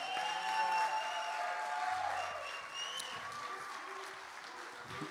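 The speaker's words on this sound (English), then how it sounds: "Let's give a round of applause to our worship team" Congregation applause for a church worship team: soft, distant clapping and crowd noise under sustained tones and a faint voice, the clapping fading gradually.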